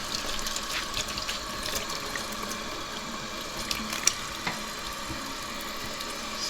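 Warm water pours steadily from a tap into a sink while a tie-dye shirt is rinsed, a continuous hiss with a few small clinks and splashes.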